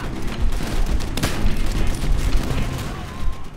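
Dense, continuous gunfire in the Call of Duty: World at War video game, with rapid overlapping shots and booms filling a few seconds of battle noise.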